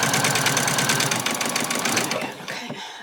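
A sewing machine back stitches an apron seam, running fast and steadily close by before slowing slightly toward the end.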